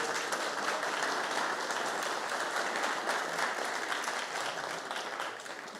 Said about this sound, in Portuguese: Palmas para ele.